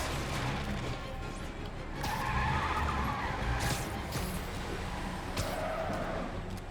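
In the game Marvel's Spider-Man, a car driven recklessly skids with tire screeches and engine roar, plus scattered crash-like bursts over a busy, continuous game soundscape.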